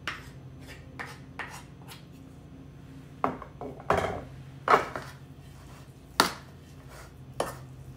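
Beef casserole of meat, vegetables and rice is mixed with a utensil in a dish, giving scattered soft scrapes and several sharper clinks against the side, close but quiet, with no talking.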